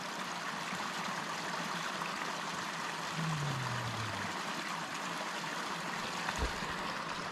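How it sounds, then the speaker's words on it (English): Creek water flows steadily along a forest trail in a fern canyon, a constant close rushing hiss with a faint low tone passing midway and a brief soft thump near the end. "Got the creek that just is giving you that water."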